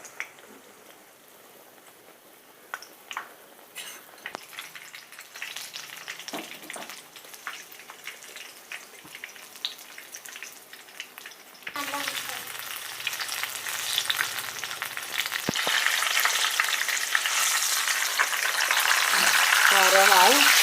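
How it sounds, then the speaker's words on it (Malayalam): Chili bajji frying in hot oil: a faint crackle at first swells into a loud, dense, bubbling sizzle that grows steadily as more battered chilies drop into the oil. "എന്നിട്ട് ചൂടായ എണ്ണയിലിട്ട് പൊരിച്ചെടുക്കുക"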